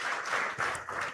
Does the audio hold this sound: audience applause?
yes